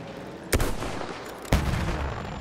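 Two sharp gunshot blasts from Battlefield 1 multiplayer gameplay, each a loud broadband crack about a second apart with a ringing decay, over a steady din of battlefield noise.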